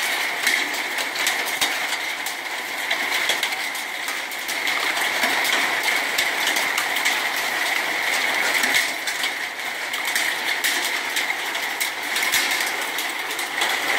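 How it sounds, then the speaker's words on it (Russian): Hail the size of quail eggs pounds down in Tver Oblast, a dense, loud, unbroken drumming clatter with occasional sharper impacts standing out. "Такого града я не помню."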